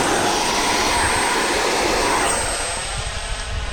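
A Futura 64mm electric ducted-fan RC jet roars loudly and steadily during an auto launch on a headwind day, the broadband whoosh holding close and strong before easing slightly as it pulls away.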